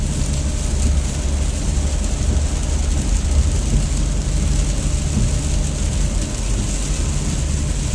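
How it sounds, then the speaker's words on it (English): Heavy rain while driving on a highway, a steady dense hiss of rain and road spray mixed with the constant low rumble of tires and car noise, unbroken and loud throughout. "It's raining pretty good right now,"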